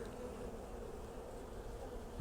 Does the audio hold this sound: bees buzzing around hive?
yes